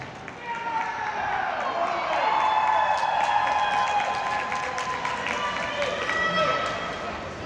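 Crowd at a CCM Chicago hockey game roars and cheers steadily after a Penguins goal, a broad sustained wash of voices at moderate distance with some whistle-like tones above it.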